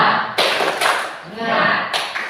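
A class performs the rhythmic 'tepuk semangat' clapping chant, with bursts of patterned claps mixed with loud voices chanting along in a room.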